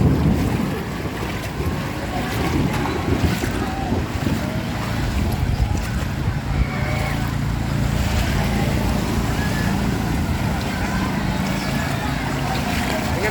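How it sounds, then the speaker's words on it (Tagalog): Loud, constant rushing and sloshing of street floodwater in Baesa, Quezon City, with wind buffeting the microphone and faint voices underneath. "Kaya naglalakad na ako sa baha."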